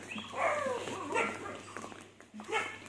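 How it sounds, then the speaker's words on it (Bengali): A dog barks and whines repeatedly on a tree-lined village road, the excited, yelping calls rising and falling in short bursts at moderate distance over faint outdoor background noise. "দেখো সামনে যেহেতু কুকুর ডাকছে,"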